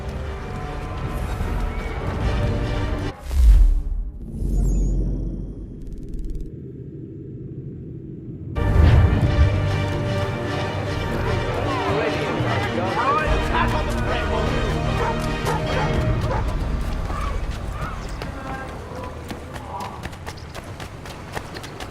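Horse hooves clip-clop through a street in Assassin's Creed III, steady rhythmic beats with a rumbling passage, mixed with game sounds and occasional talk.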